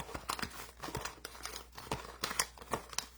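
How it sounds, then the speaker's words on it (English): Paper raffle tickets shaken and shuffled inside a gold bag, a quiet irregular rustle and crinkle with sharp papery bursts repeating in uneven rhythm, close by with no talking. "I'll give them a shake and give them a shuffle"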